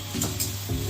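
Mashed banana flower stirred in ghee in a wok, frying with a soft, steady sizzle broken by a couple of brief scraping stirs over just under a second.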